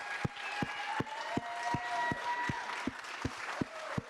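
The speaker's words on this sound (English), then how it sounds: "Can we have a round of applause for both Owen and Leonard Gates?" Applause from the audience at a MODUS Super Series darts final for the two finalists, a crowd clapping with loud, regular thuds underneath and faint voices mixed into the sound.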